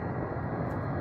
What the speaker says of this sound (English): look at the way those thrusters go nuts